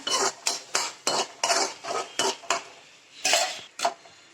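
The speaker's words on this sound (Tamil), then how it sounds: "நல்லா கிண்டி விட்டுக்கோங்க." A utensil scrapes and stirs through thick onion, tomato and green chilli masala in a pan, about a dozen rhythmic strokes with brief pauses, close and without any talking.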